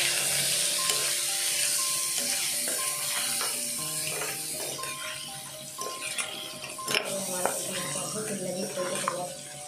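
Chicken sizzling in a pan with coriander powder and Everest chicken masala while a utensil stirs it, a steady hiss broken by repeated metallic scrapes and clinks against the pan.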